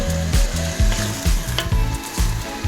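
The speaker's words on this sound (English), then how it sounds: "So I'm gonna add in about a cup of white wine." Close, busy frying sizzle from a hot pan after about a cup of white wine is poured in, with irregular stirring clatter and a low rhythmic hum underneath, no voices.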